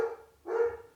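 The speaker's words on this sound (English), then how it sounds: "She's become really bad with barking." A pet dog at home gives two quick barks, the first short and the second fuller and louder, close by with no talking.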